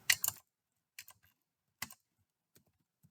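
Typing on a computer keyboard while programming a PLC: a short flurry of clicking keys, then a few isolated keystrokes spaced apart by silence, close and clear.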